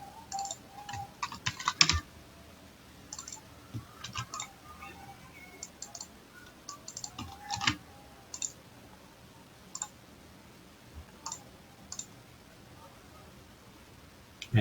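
Light, irregular clicking of keys on a computer keyboard with short bursts and pauses, fairly close but soft.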